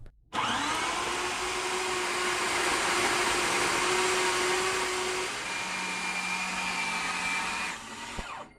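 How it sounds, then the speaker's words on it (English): A kitchen blender runs continuously, whirring a meatball mixture of meat, salt and black pepper until smooth, loud and steady, with its pitch dropping partway through before it cuts off near the end. "I close it up and blend everything until smooth."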